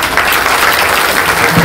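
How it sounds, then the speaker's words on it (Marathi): A kirtan audience at a Hanuman temple breaks into loud, close applause, a dense burst of clapping that stays steady for its short length. "टाळ्या वाजवा"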